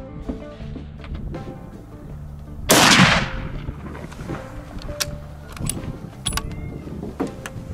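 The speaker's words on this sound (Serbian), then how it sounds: "Ajde da puknemo još jedan, da vidimo." A single rifle shot fired outdoors at night while testing a Serbian night vision scope cracks loudly partway through, its boom decaying over about half a second against a quiet background with faint mechanical clicks.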